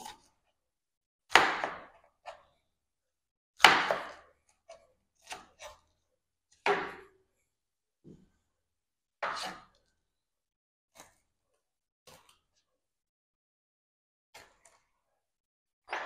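A knife chops vegetables into small pieces on a board. Sharp, separate cuts land at irregular intervals, some louder and some faint, with silent gaps between them.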